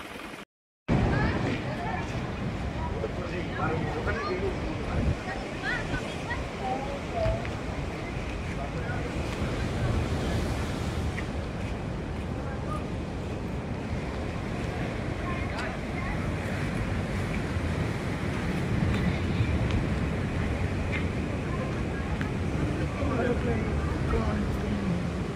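Sea waves surge continuously along the Dwarka coast in Gujarat, a loud, unbroken roar of surf mixed with wind buffeting the microphone, with speech at times.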